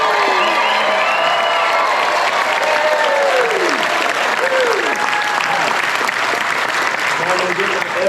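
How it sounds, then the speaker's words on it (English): An audience at a homestead talk claps and screams with excitement. Loud, continuous applause mixes with high, sweeping whoops and shrieks throughout, and voices are mixed into the crowd noise. "You gotta clap and scream."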